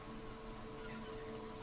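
Steady, quiet rain ambience from the video game Disco Elysium, a continuous soft wash of falling rain with a faint tonal hum underneath and no voices.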